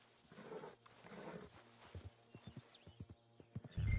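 Horse hooves clip-clopping in Red Dead Redemption 2, a run of distinct, fairly close hoof thuds in a loose walking rhythm, with a snort or whinny near the end and quiet game ambience underneath.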